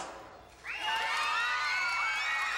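A group of children bursts into loud cheering and high shouting after a brief quieter moment, the excited chorus of voices sustained and close at a 1992 summer tour event.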